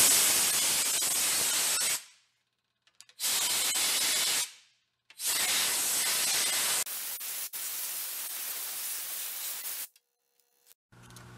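Compressed air blasts clearing pine needles and debris off the valve cover of a non-running Bobcat engine, three loud hissing bursts with short pauses, then a longer steady spray before cutting off.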